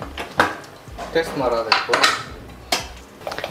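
Metal kitchen clatter as a pressure cooker lid is lifted and set down, with scraping and clinking pot sounds up close amid faint background noise.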